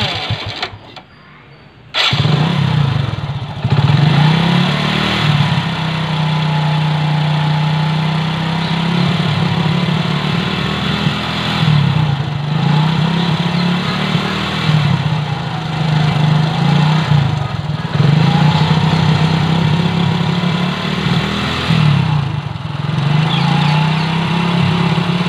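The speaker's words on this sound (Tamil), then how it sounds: "இந்த வண்டி பாருங்கள், ஸ்டார்ட் பண்ணுறேன்" A motorcycle engine is started after a brief clatter, then idles for the rest of the clip with a steady low thrumming chug, close and fairly loud, with slight periodic dips in the beat.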